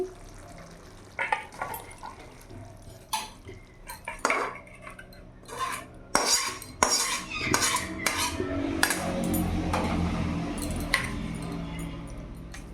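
Egg and pointed gourd curry is served from a pan, with a utensil scraping and clinking against the metal in irregular bursts, followed by a softer sizzle and stirring toward the end.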